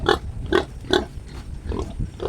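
A sow and her newborn piglets on a farm make a run of close, repeated short grunts and squeals in a steady rhythm, with softer snuffling between them.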